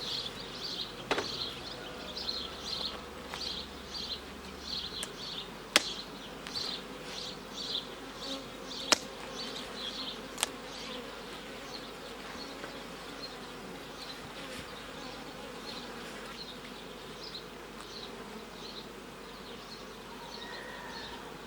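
A dense, steady buzzing of many honey bees in a hive drawing out wax foundation, close and continuous, with a few sharp clicks and knocks scattered through the first half.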